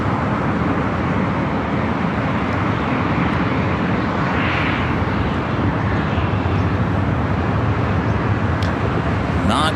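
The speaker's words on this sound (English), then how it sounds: "A Delta Airbus A220." A Delta Airbus A220 airliner passes, a broad steady engine roar that holds loud and even throughout, blended with a wash of background traffic noise.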